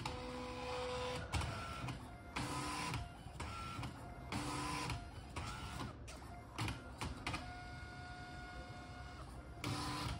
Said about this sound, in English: Okay, well, it looks like it's printing.